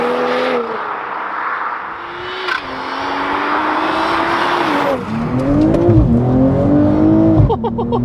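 A 450bhp BMW G42 M240i accelerating hard on a drive, its engine note climbing steadily through the revs, dropping at gear changes and rising again, loud and close, with brief tyre chirps near the end.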